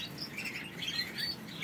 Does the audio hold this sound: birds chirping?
yes